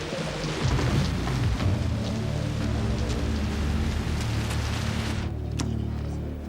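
Steady rain pattering close by, with a constant low rumble underneath and scattered sharper drops; it thins out near the end.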